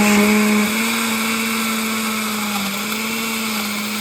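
A blender runs continuously on a mango raspberry smoothie with almond milk, a loud steady whirring drone whose pitch dips slightly after the first half second and then holds.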